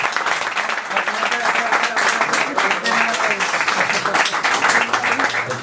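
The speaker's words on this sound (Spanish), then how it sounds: "Bueno, pues un aplauso." An audience at a Betabeers Huelva tech meetup applauds after a talk on software testing, steady, fairly loud clapping with crowd murmur and voices mixed in.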